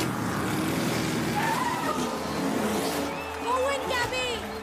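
Race cars roaring off the start of a race in an Indian action film, a dense, continuous engine din with rising whines and tire squeals near the end, loud throughout, under a film soundtrack.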